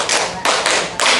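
A group claps in unison at a teachers' training session, three sharp collective claps in quick succession, loud and close.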